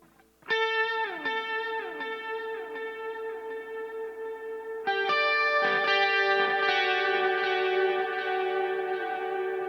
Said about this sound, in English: it's basically the time turned all the way up, and as you can hear, it's still going forever